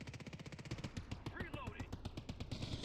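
Rapid automatic gunfire in the video game Ascendant rattles in a fast, steady stream throughout, with brief electronic game tones layered over it.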